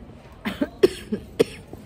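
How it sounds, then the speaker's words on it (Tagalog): A short burst of three or four close, dry coughs in quick succession. "May ubo ako."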